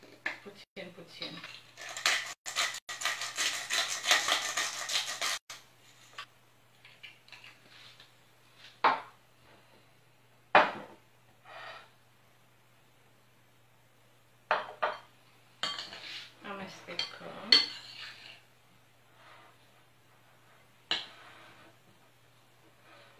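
Rice salad with eggs, onion and olives stirred in a bowl, a stretch of continuous scraping and clinking followed by scattered utensil knocks and taps against the dish, with a voice speaking intermittently.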